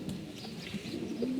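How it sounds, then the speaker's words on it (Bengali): Pigeons come down to land while they coo, giving soft, low, throaty calls that repeat a few times and sound faint against a quiet background. "এই যে কবুতরগুলো নামতেছে"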